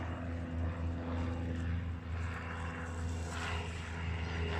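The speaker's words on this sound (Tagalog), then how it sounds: "May aeroplano pong dumaan." A propeller airplane passes overhead near an airport in Norway, a steady low droning roar that swells slightly and stays distant to moderately loud, with no talking.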